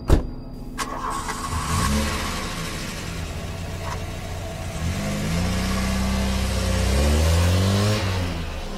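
A car engine cranks and catches, then idles roughly and revs as the car pulls away. The engine rises in pitch and loudness over several seconds, close by and with no voices.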